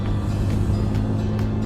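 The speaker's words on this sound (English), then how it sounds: "A car coming up behind me." A car closes in from behind a motorcycle on an open country road, its steady low engine and tyre rumble running continuously under the bike's own drone throughout the short stretch.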